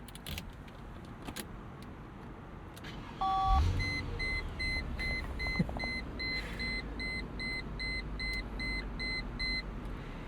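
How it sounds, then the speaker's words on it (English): A 2000 Mercedes-Benz SL 500 V8 roadster sounds a series of short repeated electronic phone-style beeps as it starts, with the engine catching and idling underneath, keys jangling nearby, close inside the car. "whenever this car starts up, it has that little phone tone that goes off"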